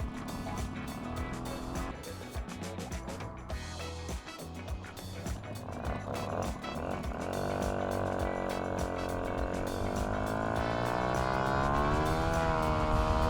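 A single-speed moped with a Sito Plus exhaust and a 12mm Piaggio carburettor cruises at about 40 km/h on a slight downhill, its engine a steady close buzzing drone that rises gradually in pitch and volume.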